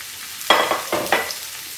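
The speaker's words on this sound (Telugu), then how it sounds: "దీంట్లో 2-3 టేబుల్ స్పూన్స్ ఆయిల్ వేసుకొని అదే ఫుల్ ఫ్లేమ్ లో పెట్టుకొని ఈ పొటాటోస్ ని కూడా వేయించుకోవాలి" Boiled potatoes hitting hot oil on full flame, a few quick loud bursts of sizzling hiss, close by and alone, over a quiet background.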